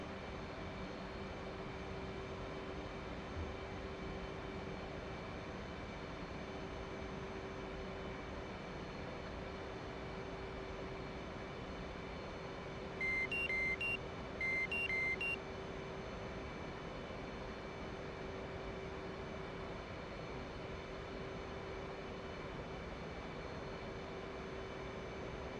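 Steady aircraft engine drone from an F-18 Hornet in the DCS flight simulator, flying slowly with gear and flaps down, faint and continuous with two short electronic warning beeps partway through.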